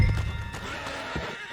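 A horse in the Red Dead Redemption 2 video game gives a short, fairly quiet whinny, with a few soft hoof thuds underneath.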